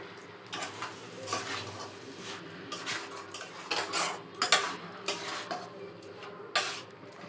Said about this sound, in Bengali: ডালিয়াগুলো দিয়ে দেবো।